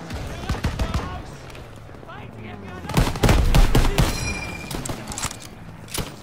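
Gunfire and anti-aircraft cannon fire in the Second World War game Call of Duty WW2: rapid cracking shots in bursts, then a heavier, louder volley midway, with someone speaking over the action.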